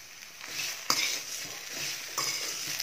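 Brinjal (eggplant) pieces stir-fried in oil with salt for a South Indian poriyal, giving a steady soft sizzle with a few sharp spatula scrapes and clinks against the pan, close and continuous with no talking.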